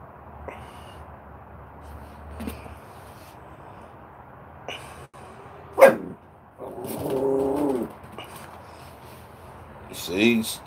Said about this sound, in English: Now you want to bark at everything.